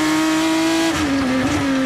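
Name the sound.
GP3 race car engine passing on track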